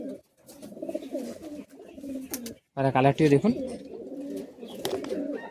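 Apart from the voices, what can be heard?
high flying Madrasi pigeons cooing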